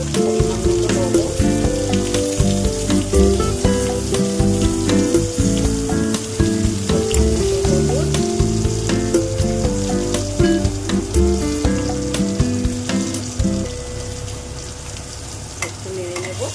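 Flat beans frying in a pan for a fish dish, a dense continuous sizzle over a busy layer of tonal background sound with frequent small clatters, fading slightly at the end.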